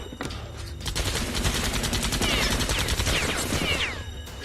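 Dense, sustained automatic gunfire with rapid overlapping shots, loud and close, a hail of bullets sprayed at a figure who keeps standing in an action film scene.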